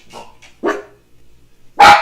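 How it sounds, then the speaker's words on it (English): Dogs bark indoors in a house in short, sharp bursts: a few yips, then a louder bark, and finally a loud, close bark at the end. "You're making the dogs bark."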